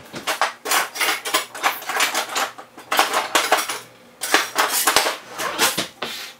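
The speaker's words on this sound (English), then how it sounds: "needs whisking." A metal whisk clatters rhythmically against a bowl while mixing flour, granulated sugar, baking powder, salt, cinnamon and pumpkin pie spice, in close, loud bursts of rapid scraping and clinking with brief pauses.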